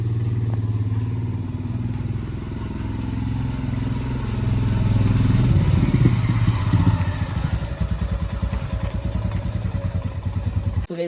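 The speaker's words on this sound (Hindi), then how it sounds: "आपको जैसे कि मैंने ऑफ रोडिंग दिखा दिया कैसे आप स्टैंडिंग पोजीशन में बाइक चला सकते हो, आप देख लो।" Royal Enfield Himalayan motorcycle ridden off-road with the rider standing, its engine droning loud and close throughout, the thump growing more pulsing and uneven toward the end.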